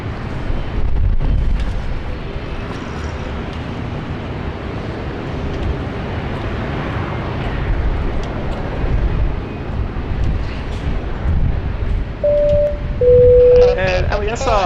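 A Virgin Australia Boeing 737-800 arriving from Hobart touches down at Sydney Airport, heard as a broad, distant engine roar and rumble. A person talks over the roar, and a few short tones come near the end.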